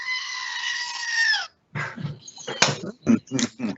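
A toy goat gives one long, loud, wavering electronic bleat close to the microphone, then cuts off, followed by a burst of people talking and laughing.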